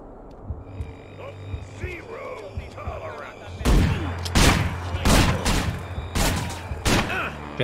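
Sniper gunfire in the video game Manhunt, several loud sharp shots ringing out in an irregular sequence over a low droning hum and ambient noise.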